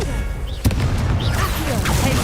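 The Confringo explosive spell in Hogwarts Legacy goes off with a dense, booming blast and rumbling impact amid busy combat noise, while a person talks over it.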